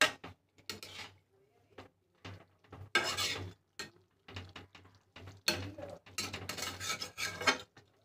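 A spoon or spatula scrapes and knocks around a pan while bhola fish curry with coriander leaves is stirred, in short irregular bursts of metallic clatter separated by quiet gaps.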